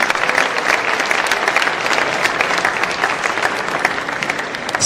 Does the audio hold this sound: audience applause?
yes